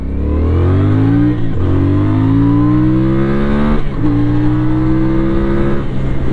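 A loud CF Moto 450 CL-C bobber motorcycle engine revs steadily through the gears while riding, pitch climbing then dropping at each shift, close and continuous with no voices.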